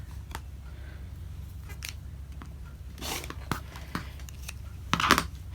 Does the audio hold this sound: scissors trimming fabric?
yes